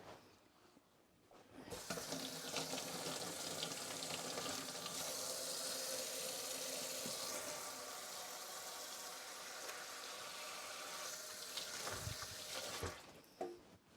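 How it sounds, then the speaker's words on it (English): Running tap water pours continuously as hands are washed at a kitchen sink, a steady broad rushing splash starting abruptly, lasting about eleven seconds, then shutting off, fairly quiet overall. "I'm just going to wash my hands."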